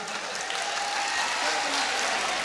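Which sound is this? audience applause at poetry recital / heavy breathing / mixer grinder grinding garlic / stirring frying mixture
audience applause at poetry recital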